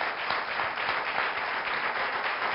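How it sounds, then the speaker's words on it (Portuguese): Audience applause at a talk or public session, a steady dense patter of many hands clapping throughout, fairly loud and with no voices over it. "Um aplauso para o Hugo."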